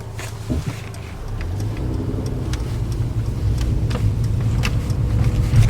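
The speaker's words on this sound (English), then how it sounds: "as you can see in eco, the car is very quiet, it changes gears very smoothly" A Mercedes-Benz C-Class driving in eco mode gives a steady, low engine and road rumble from inside the cabin, gently building as it cruises with smooth, barely noticeable gear changes.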